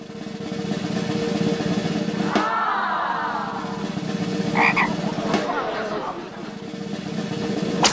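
A trained cartoon frog croaks loudly in a couple of bursts, one drawn-out warbling croak followed by shorter ones, with background chatter and scene noise throughout.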